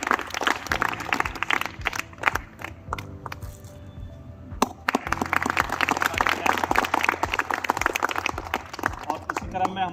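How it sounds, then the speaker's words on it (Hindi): Children applauding at a free medical camp welcome ceremony in Bindukhatta, Lalkuan, with dense clapping running through most of the stretch, a brief lull in the middle, and an adult voice speaking over it. "आप लोग बच्चों जोर से ताली बजाएं।"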